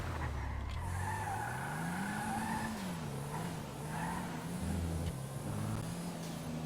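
A car in GTA 5 revs and skids, engine pitch rising and falling through a long tire screech with brief gear shifts, loud and close, with no talking.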